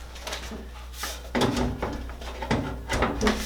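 An appliance unit door, part of a heat exchanger cleaning job, being fitted back on, with a series of close clunks, scrapes and knocks over a steady low hum.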